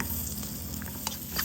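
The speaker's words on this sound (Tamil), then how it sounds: "மெலிசனாக இருக்கிற வெங்காயத்தை போட்டு வதக்கிங்கோ" Thinly sliced onions sautéing in a pan with spices, a steady close sizzle with faint stirring scrapes, brief and continuous.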